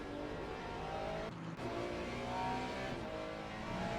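Ferrari GT3 race car engine in the Le Mans Ultimate racing sim at Portimão, a loud, steady close-up drone with slight throttle modulation and a brief dip partway through, no voices.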